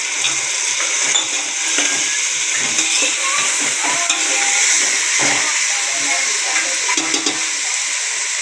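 Tomatoes stirred in a hot pan while making vegetable rice: a steady, loud sizzle of frying runs throughout, with repeated scraping and clinking of a spoon against the pan.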